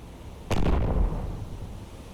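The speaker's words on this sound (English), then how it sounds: "Loud explosion out there." An explosion in the submarine game Cold Waters strikes sharply, then rolls into a heavy low rumble that fades over the next second and a half, with no voices.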